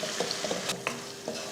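Egg curry masala being stirred in a pan, with soft, close scraping strokes over a low, steady sizzle and a few brief clinks.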